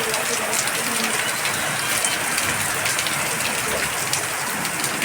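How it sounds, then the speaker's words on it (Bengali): Heavy rain pours steadily onto a veranda, a dense, continuous hiss of water drumming on surfaces, loud and unbroken throughout with no voices. "প্রচণ্ড বৃষ্টি পড়ছে।"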